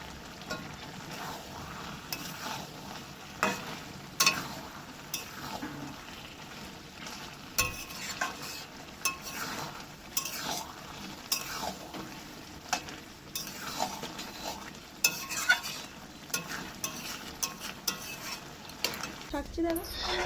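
A vegetarian vegetable dalna with ghee cooks in a pan, giving a low, continuous sizzle broken by stirring and occasional clinks of utensils against the pan, fairly quiet throughout.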